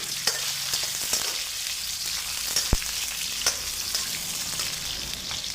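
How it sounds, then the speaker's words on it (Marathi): Onions and spices for hotel-style paneer lababdar sautéing in oil, a continuous crackling sizzle with occasional sharp spoon clinks against the pan, close and unaccompanied by voices. "ह्याला पहिला थोडंसं तेलामध्ये परतून घ्यायचं आहे त्याला थोडं परतून घेतो तेलामध्ये"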